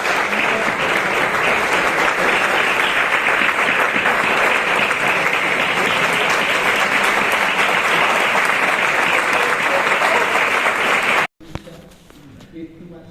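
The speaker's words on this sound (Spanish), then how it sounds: "un aplauso," An auditorium audience at a round-table on the war and Francoism gives a long, loud, sustained round of applause, which cuts off abruptly near the end, leaving faint room noise.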